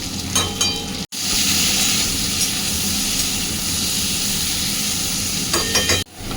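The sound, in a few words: pointed gourd (potol) frying in a pan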